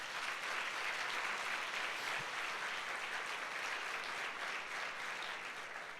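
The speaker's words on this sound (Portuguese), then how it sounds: "Então dá um aplauso ao Senhor Jesus aí." A church congregation applauds during a Sunday service, a steady, dense wash of clapping from many hands that holds at an even level for several seconds before easing slightly at the end.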